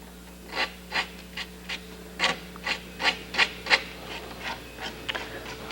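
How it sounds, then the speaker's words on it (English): Sandpaper rubs over the eyelid of a mule deer shoulder mount in short, steady strokes, about a dozen close, dry rasps in an even rhythm against a quiet room hum. "With a piece of sandpaper, I'll feather it down"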